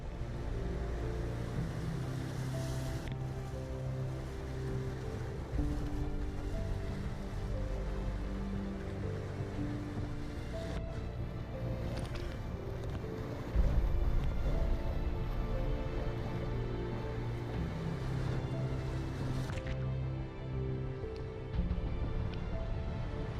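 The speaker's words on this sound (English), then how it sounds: "It looks impressive, but it's just a big wave train." Continuous rushing, churning roar of a river rapid's wave train on the French Broad River, swelling and surging in waves, loud and close, with no voices.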